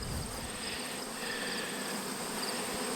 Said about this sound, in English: and bees don't know where they live